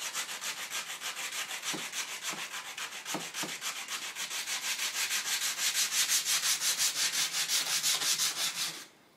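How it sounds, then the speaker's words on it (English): Rough sandpaper is worked by hand over old wooden floorboards while a false threshold is removed, giving a close, rhythmic rasping of quick even strokes that builds slightly louder and then stops abruptly, with no talking. "I'm cleaning it a little further with sand, with some rough sandpaper."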